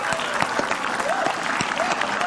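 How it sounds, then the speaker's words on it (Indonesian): A studio audience on an Indonesian comedy show claps steadily, dense crowd applause with sharp individual hand claps throughout, fairly loud and close. "tepuk tangan buat Pak Anies Baswedan."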